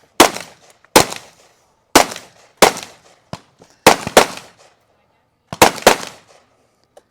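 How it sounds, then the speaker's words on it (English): Rifle and pistol shots crack out at a shooting competition stage: loud, sharp reports about a second apart, with a quick double shot mid-sequence and a tighter cluster toward the end, each one fading into silence. "12 shots with their rifle, and then they will have 10 shots with their pistol"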